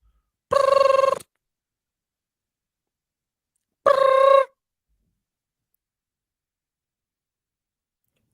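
A telephone ringback tone sounds twice during an outgoing call, each ring a short buzzing burst of about half a second, separated by a few seconds of silence.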